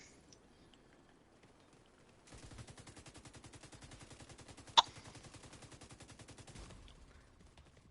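Nemesis sniper rifle fire in The Division 2, heard as a dense burst of rapid gunfire lasting several seconds with one sharp, louder crack partway through, then stopping abruptly.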